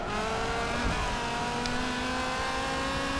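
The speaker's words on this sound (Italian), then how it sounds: "Comunque sentite veramente che bel motore." A Dodge Viper GTS in Forza Motorsport 7 roars continuously at high revs, a loud, sustained engine drone without pause.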